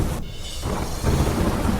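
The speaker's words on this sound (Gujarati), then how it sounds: "અરવલ્લી જિલ્લામાં ધોધમાર વરસાદ." Heavy monsoon downpour over Aravalli district, Gujarat, a dense steady roar of rain with rumbling low thunder, loud and continuous with a brief dip before building again.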